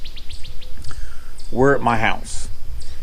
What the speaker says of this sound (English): you could hear the birds in the background and everything